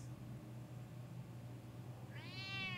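A cat in the Batman Telltale video game gives a single rising, clear meow near the end, after a quiet stretch of low ambient hum.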